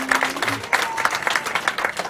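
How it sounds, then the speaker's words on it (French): Audience applause at a live French-language show where a singer is being introduced, a brief burst of steady clapping from the crowd, fairly close and dense, with faint voices mixed in. "On applaudit."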